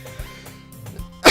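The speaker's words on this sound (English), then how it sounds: "I hate this cough." A single cough-like burst, loud and close, ending a short stretch of quiet background with faint low thumps; it arrives suddenly with no talk around it.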